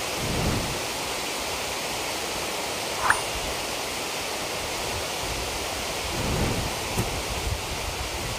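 Water pours down the spillway of the Siriji dam in Vicência, Pernambuco, heard from a lookout above as a broad, steady roar of rushing water that holds constant throughout, with no voices.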